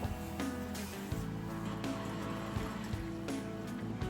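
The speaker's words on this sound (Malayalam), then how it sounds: "ഇനി അതിന്റെ അകത്തോട്ട് ഞാൻ പുളിവെള്ളം ചേർക്കാൻ പോവുകയാണ്" Tamarind water pours into a fish curry masala, a close trickling splash with faint clatter and background hum.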